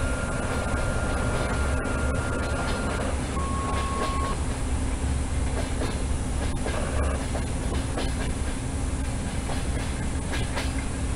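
A ChS7 electric locomotive hauling express train No. 081 from Saint Petersburg to Belgorod in ZDSimulator rolls steadily along the rails, giving a continuous loud rumble with a faint rhythmic clatter and brief tonal signal beeps.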